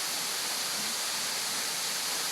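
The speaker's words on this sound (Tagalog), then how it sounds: "Lakas ng tubig." Strong rushing water at a jungle swimming spot, a steady, faint hiss of flowing water with no other sounds or voices.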